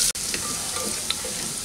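Chopped garlic and ginger fry lightly in oil, giving a steady soft sizzle with faint scattered crackles and a brief stir near the start.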